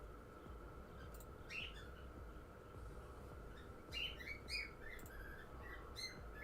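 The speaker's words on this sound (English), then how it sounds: "You hear the bird screaming." A bird screams in a few sharp, high chirping calls scattered over a steady hum and hiss. There is no talking, and the cries come now and then at moderate volume.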